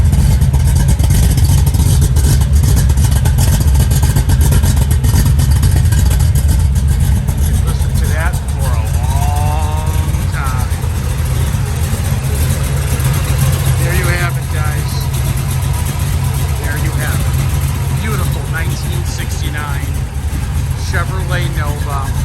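A 1969 Chevrolet Nova with a 454 V8, Turbo 400 transmission and lumpy cam idles loudly and steadily throughout, a deep rumbling engine with clattering texture, while people talk over it.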